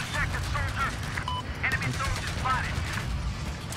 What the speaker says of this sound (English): my gun is shooting faster than I'm reloading